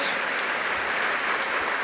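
A congregation listening to a priest's sermon claps in a brief, dense burst of steady applause, with no voices over it.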